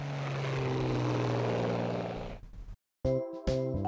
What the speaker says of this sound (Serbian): A kao avion.